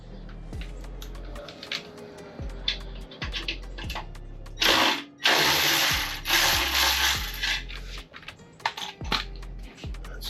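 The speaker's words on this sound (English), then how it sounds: "We're gonna take this bolt down here, which is a 13, gonna loosen that." Ratchet wrench loosening a 13 mm bolt on the exhaust of a 2024 Aprilia Tuono V4 motorcycle during a LeoVince LV Corsa install, with repeated close clicking swings and a short louder clatter midway.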